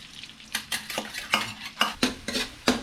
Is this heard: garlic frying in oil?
yes